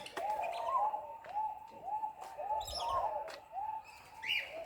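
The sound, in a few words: birds calling in a marsupial park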